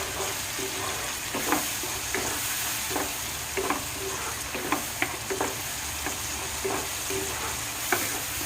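Garlic and ginger paste frying in a pan under a steady sizzle, with a spoon scraping and stirring in irregular clicks and knocks, close and fairly quiet, no talking.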